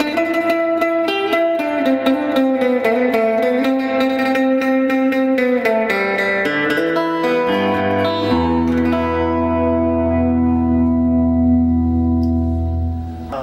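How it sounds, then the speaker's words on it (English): Danelectro electric guitar with split single pickups playing a classic surf tone through a Fender Pro Junior tube amp: a fast run of reverb-drenched picked notes, then a low chord that rings out and fades, with no talking. "Definitely going to give us that quintessential classic surf sound, but with a different guitar."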